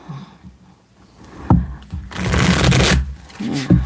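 Tarot cards shuffled close up: soft riffles building into a dense, loud burst of rapid card flutter, then a few final taps as the deck squares up.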